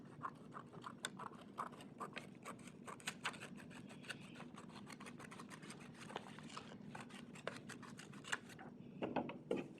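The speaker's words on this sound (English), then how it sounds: "And then you're just going to cut right along that center crease." Scissors cutting along the center crease of a folded paper sheet for modular origami toys, a close, quiet, steady run of crisp snips and scratchy paper rasps over about ten seconds.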